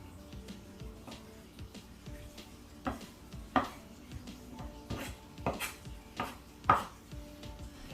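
A knife slicing a carrot thin on a cutting board, a series of separate crisp chops at an uneven pace, some sharper than others, close and fairly quiet with no talk.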